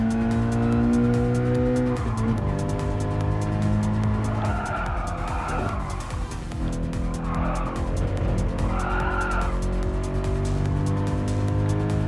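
Subaru BRZ race car in Gran Turismo Sport, racing a Toyota 86 GT: loud, steady engine drone with shifting pitch, broken by several bursts of tire squeal and skidding through corners.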